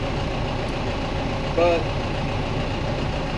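A nearly new Massey Ferguson 4710 tractor engine idles with a steady low rumble throughout, a brief tonal whine rising around the middle, while someone talks over it.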